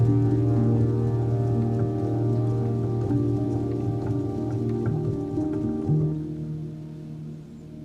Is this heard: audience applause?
no